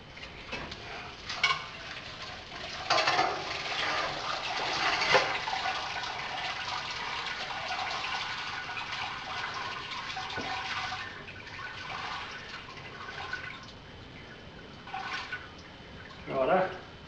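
Wort drains and trickles from a lifted grain bag on a fruit rack while brewing an imperial dessert stout. Steady splashing runs throughout, with a few louder sloshes and clunks near the start and end.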